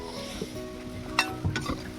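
Food sizzles gently in a wok while being stirred, with a low continuous frying hiss and a few sharp scraping clinks of a spatula against the metal, close by.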